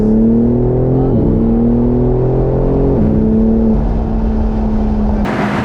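A 2022 BMW M4 engine revs loudly and close, its exhaust note rising and dropping in several surges before settling into a sustained drone.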